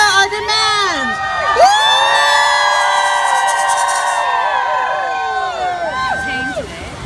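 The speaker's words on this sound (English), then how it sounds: "Let's scream loud for them so they can hear our demands." A crowd at a street rally outside the Honduras Mission screams, whoops and cheers together, many loud sustained voices rising and falling in a dense roar that barely lets up for several seconds.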